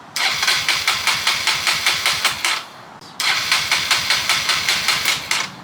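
A Kawasaki KLX 140 dirt bike is cranked in two rhythmic, evenly pulsing bursts separated by a brief pause, the engine chugging without catching and running.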